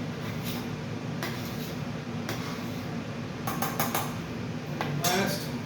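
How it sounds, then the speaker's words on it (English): A spoon stirring beans into a pot of pasta e fagioli soup, with scattered faint scraping and metallic clinks against the pot at irregular moments over a low background hum. "Go ahead and add our beans first. Right. Stir those in nicely."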